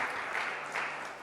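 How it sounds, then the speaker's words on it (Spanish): A church congregation applauding during a Spanish-language sermon, a short burst of brisk clapping heard from across the room at moderate loudness. "Demos el aplauso al Eterno."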